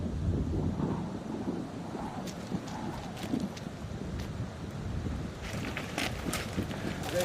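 Strong wind gusts around 100 km/h roar over the microphone high in the Hautes-Alpes mountains, a steady rough rumble with scattered crackles and ticks, loud and continuous.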